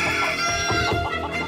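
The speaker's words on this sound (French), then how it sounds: "J'hallucine, c'est un coq." A rooster crows and clucks loudly at close range to start the morning in the dormitory of a reality cooking competition, sounding as a continuous harmonic call with no talking over it.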